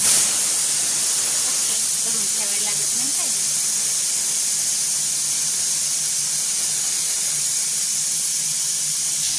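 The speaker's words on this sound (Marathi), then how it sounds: "कुकरची हवा कशी घालवते बघा" A pressure cooker vents its steam in a steady, loud hiss that fills the whole stretch and stays even from start to end, with faint voices barely showing at the beginning.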